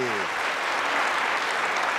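A TV studio audience applauds warmly for a singer's entrance on a 1983 variety show, with steady dense clapping throughout and a brief tail of a voice at the very start.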